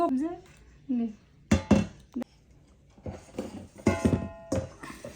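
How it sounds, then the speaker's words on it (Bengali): A spoon stirs milk into pitha batter in a bowl, giving scattered clinks and scraping knocks against the dish, with someone talking in between. "দুধ দিলাম। এখন আস্তে আস্তে মিশাই"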